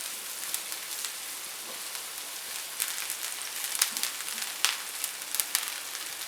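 Finely chopped onion frying in two to three tablespoons of oil in a pan, a continuous soft sizzle with occasional crackling pops, close and steady with no talking.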